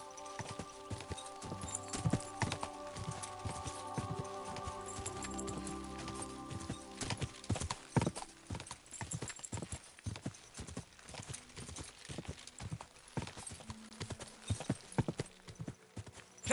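Horse hooves clip-clop at a gallop in the medieval video game Kingdom Come: Deliverance 2, a steady rapid beat of hoof strikes over a sustained musical drone, with an occasional whinny and no talking.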